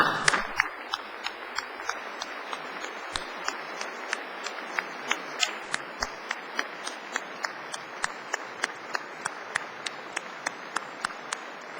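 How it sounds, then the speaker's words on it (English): Graduation ceremony audience applause in a hall, a steady dense wash of clapping with evenly spaced sharp knocks running through it, sustained at a moderate level. "give them all a very special thank you by giving them a big round of applause in public"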